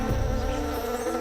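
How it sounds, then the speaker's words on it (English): Male orchid bees buzz in a dense, continuous drone in Colombian forest, steady and fairly close with no voices. "male orchid bees can travel up to 50 kilometers in search of these aromas"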